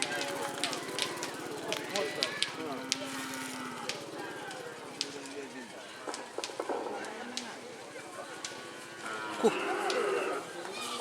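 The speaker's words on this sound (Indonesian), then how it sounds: "Sapi guys." Cattle at a Madurese bull race (kerapan sapi) on Sapudi island, with animal calls and bustle amid an outdoor crowd, voices talking throughout.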